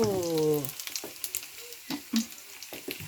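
Kale and seafood stir-frying in a hot pan, a steady close sizzle with bursts of crackle and spatula scrapes as the greens hit the oil; a brief voice-like tone opens the moment.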